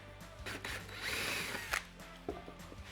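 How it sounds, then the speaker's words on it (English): Power grinder cutting off part of a metal bracket in a Toyota MR2 engine bay, a close, steady whining buzz with brief surges and dips; no talking. "All right, let's grind this bit off."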